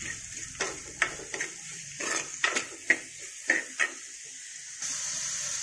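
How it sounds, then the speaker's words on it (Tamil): Onions with a pinch of salt being sautéed in a pan for a village-style dal and greens dish, giving a faint steady sizzle broken by a series of sharp spatula scrapes and clinks against the pan. "வெங்காயத்தை நல்லா வதக்கணும். கொஞ்சம் உப்பு ஆட் பண்ணிக்கலாம்."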